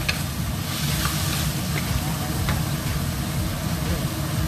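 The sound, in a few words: stir-frying ingredients in a pan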